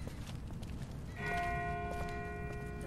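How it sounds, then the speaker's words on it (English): A distant bell in The Walking Dead game, a single faint ringing strike that sustains and slowly decays over a low rumbling ambient bed, far off and quiet. "That's not the same bell as before. This one's further off."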